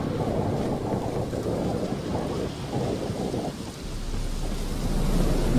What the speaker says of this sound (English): Oh, it's dark out. Oh, it's raining.